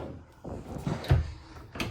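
Large drawers of a dual bathroom vanity in a 2026 Sprinter 3800FLB front-living fifth wheel RV slide and knock shut, a few soft thuds and rattles close by in a quiet room.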